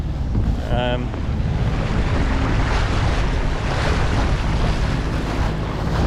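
A 1969 New York-built Seafarer 36 sailboat motors through open water: a loud, constant wash of water and wind buffeting the microphone, with a low engine rumble underneath.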